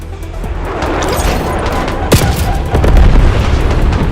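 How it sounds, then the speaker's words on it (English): Napalm strike explosions in a video game rumble as a dense, continuous barrage of deep booms and crashes, with a sharp blast near the middle and heavier impacts toward the end. "TACOM, Stitch requesting napalm strike."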